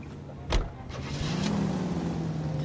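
A car in the video game L.A. Noire: a door-like thud, then a steady engine hum that rises in pitch and holds, close and moderately loud, no talk.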